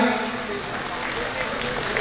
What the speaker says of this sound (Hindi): एक बार इन सबके लिए, बच्चों के लिए तालियां